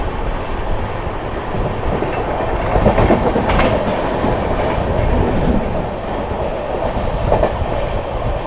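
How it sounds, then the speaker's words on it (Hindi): The Mau–Anand Vihar Superfast Express (22539) running at speed through Etawah Junction: a loud, steady rumble of wheels and carriages with faint clickety-clack, continuous throughout. "बढ़िया रफ्तार में स्किप मारा है भाई इटावा जंक्शन अपनी मऊ आनंद विहार सुपरफास्ट एक्सप्रेस ने"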